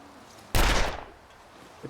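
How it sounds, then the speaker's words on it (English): A single sharp pistol shot in a video game, loud and close, with a short decaying tail and a faint thump afterward. "A quick pistol shot, just in case there's wolfies."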